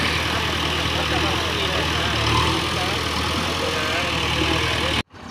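A JCB excavator's diesel engine rumbles steadily nearby while it digs soil on the bank of a flooded village lake, a continuous, even drone that cuts off sharply at the end.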